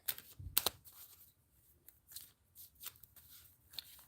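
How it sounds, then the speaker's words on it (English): Tarot cards riffle and flutter in quick bursts, with a few soft snaps and pauses between shuffles, close and fairly quiet, no talking. "All right, one more good shuffle."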